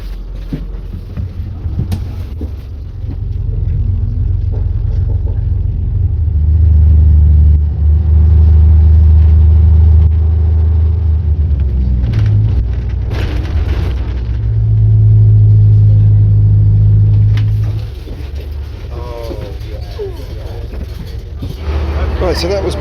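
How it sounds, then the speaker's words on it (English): A 1983 Leyland Titan double-decker bus in Golden Jubilee colours, heard from on board as a loud low engine rumble that swells and eases through gear changes, with some noise from around the cabin. "Our next bus was another Leyland, but this time a 1983 Leyland Titan in Golden Jubilee colours"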